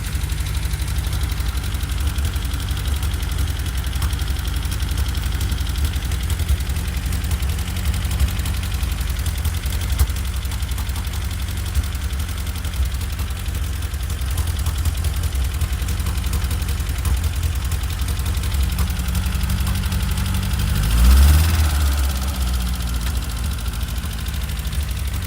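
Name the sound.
engine idling lumpy on choke after first start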